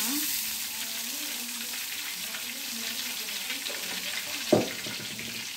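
Water poured into a hot frying pan while making chicken katsu sauce, giving a steady sizzling hiss with a brief splash-like burst near the end and a voice talking faintly over it.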